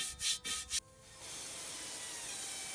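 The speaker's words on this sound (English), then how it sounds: "let's try the wheel acid plus a scrub brush" A scrub brush working wheel acid over a car wheel, three quick, close, harsh scrubbing strokes, followed by a steady hiss that carries on to the end with no talk.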